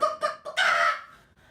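A voice imitates an angry chicken with a few sharp squawks rising into a loud, drawn-out screech, alone and close.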